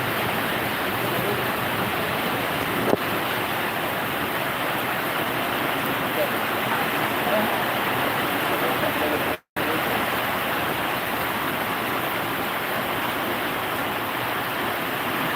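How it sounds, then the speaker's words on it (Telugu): Heavy rain pours down over a village in a dense, steady roar that stays loud and unbroken throughout, apart from one momentary dropout. "వర్షం అయితే గట్టిగానే కొడుతుంది"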